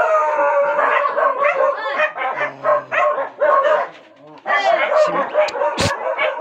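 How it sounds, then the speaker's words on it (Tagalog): A dog guarding a fishing catch barks and howls in close, loud, repeated bursts, with a pause in the middle and a sharp clatter near the end. "Binabantayan ng aso."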